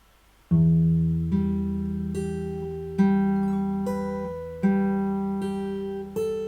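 Fingerstyle guitar slowly plays a phrase of a song from Final Fantasy X, with a handful of distinct plucked notes spaced about a second apart, each ringing out over a held bass note, close and alone.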